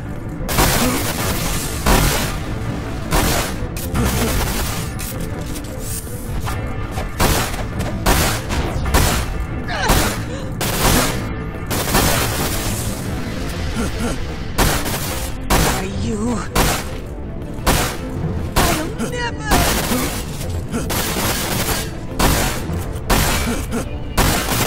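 Gunfire in the video game Dirge of Cerberus, part of the Final Fantasy 7 collection: repeated sharp shots and booming blasts in irregular bursts over a dense, loud game mix, with people talking at times.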